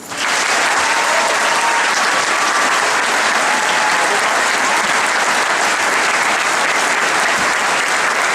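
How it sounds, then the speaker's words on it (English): Sustained, loud audience applause at an MDI high school graduation ceremony, a dense wash of many hands clapping that swells quickly and holds steady throughout. "Let's have a round of applause."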